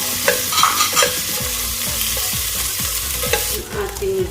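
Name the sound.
garlic sizzling in olive oil while stirring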